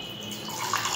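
Water is poured into a cup in a short, quiet trickle that rises slightly toward the end, with no talking.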